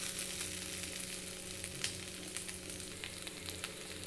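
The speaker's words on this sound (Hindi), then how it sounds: "अब हम इसे 1 मिनट के लिए अच्छे से मिक्स करके ढक के और फ्राई कर लेंगे।" Okra and ivy gourd fry in a covered pan, giving a steady, close sizzle with faint crackles and small pops, no voices.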